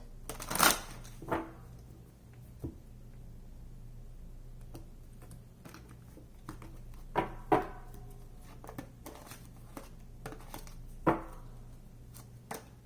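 Tarot cards being shuffled and handled at close range, several sharp riffling snaps and light ticking taps spread irregularly over a quiet, steady background hum, with no talk.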